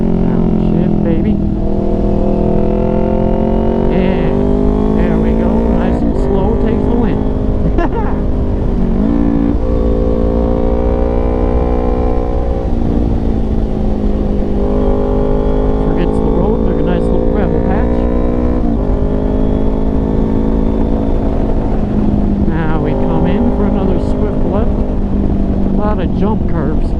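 Motorcycle downshifting and accelerating through corners, its engine note swinging up and down in pitch in repeated loud revving sweeps, with sharp pitch drops at the downshifts, continuous and close.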